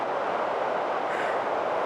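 A loud river rushes steadily beside a sand dune campsite at Farwell Canyon in British Columbia, a dense, unbroken close roar with no pauses.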